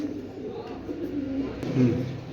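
Pigeons coo low and steadily close by, a continuous rolling murmur that swells slightly toward the end.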